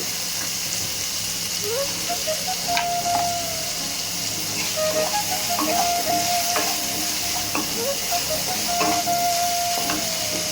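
Tomatoes sizzling in a hot pan over ginger and chopped chilli, a steady frying hiss with stirring clinks and a faint tonal whine running underneath.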